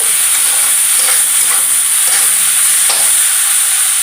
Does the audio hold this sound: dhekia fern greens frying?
yes